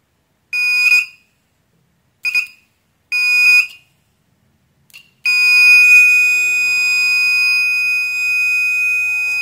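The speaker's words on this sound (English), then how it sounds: "the beep is present." A faulty 200 watt mini inverter under repair gives piercing electronic warning beeps: three short bursts and a brief chirp, then one long, continuous tone that holds to the end, close and loud.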